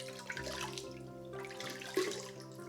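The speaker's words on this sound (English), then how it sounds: "I really like splashing cold water on my face after a facial" Cold water splashes against a face at a bathroom sink after a facial, with steady running-tap water and a few soft splashing bursts, close and fairly quiet, no talking.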